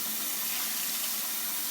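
Dirty water from wet-tumbling brass in a rock tumbler pours steadily down a drain, a loud continuous gushing rush with no break across the short stretch.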